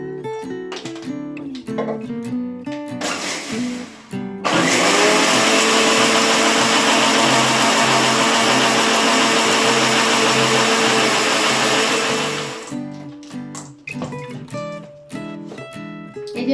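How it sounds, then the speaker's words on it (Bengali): Mixer grinder grinding meat with water, a loud steady whirring motor roar running for about eight seconds, with clattering kitchen sounds before and after it. "এবার আর পালসে ঘুরাবো না"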